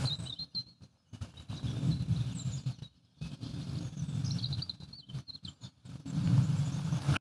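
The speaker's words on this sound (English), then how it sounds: "the birds in the trees." Birds sing in winter trees beside a road in the New Forest, with light high chirps scattered through the clip over a low rumbling background and the scuff of footsteps.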